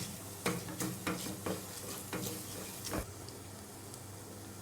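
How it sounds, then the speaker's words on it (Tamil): Coriander seeds dry-roasted in a pan, with a series of light scraping stirs and faint crackling at an uneven rhythm, close and quiet, with no voices. "இப்போ கொத்தமல்லி நல்லா பொன்னிறமாக வருங்க."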